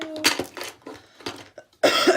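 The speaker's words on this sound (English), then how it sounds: "Just coughing and coughing." A few harsh coughs in close succession, separated by short pauses, followed by a louder burst of rustling noise.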